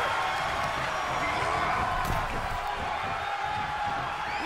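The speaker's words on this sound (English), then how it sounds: "Randy Orton feeding off this electric crowd" Video game wrestling arena crowd in WWE 2K23 roars steadily throughout a bout, a continuous dense wash of cheering and whooping with faint commentary underneath.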